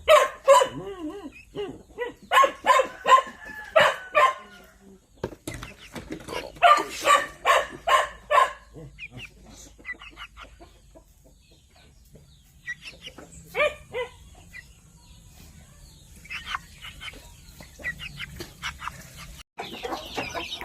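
A stag Koshamo rooster in a farmyard, loud repeated clucks and crowing-like bursts close by in two clusters, then quieter scattered calls and clucks over the remainder.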